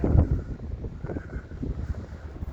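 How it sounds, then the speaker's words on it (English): Wind gusts at a seaside pier at low tide buffet the microphone with a low, rumbling roar that swells and fades unevenly. "It's really windy"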